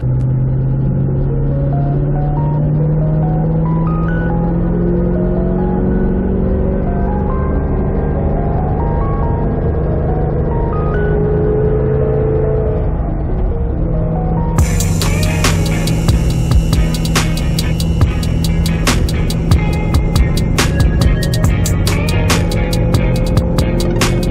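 Steady drone of a 2005 Chevrolet Corvette V8 cruising at about 70 mph and 2,000 RPM, a smooth continuous hum with road rumble that stays level and close from start to finish.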